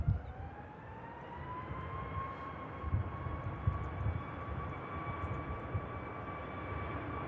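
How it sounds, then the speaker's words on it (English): A Boeing 737 jet departing on takeoff, a continuous loud engine roar with a rising whine that holds steady at a distance for several seconds, with no talk. "The Naked Jet departing."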